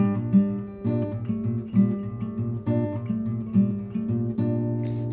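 Guitar chord from a song, strummed and picked several times in a steady repeating pattern, close and clear with ringing low notes and no talk.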